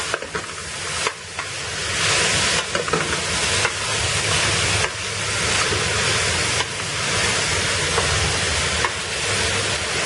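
Soya bean chunks mixed into vegetables in a pot for biryani, a loud continuous scraping and sizzling wash with regular surges as the spoon sweeps round, each pass punctuated by a short knock.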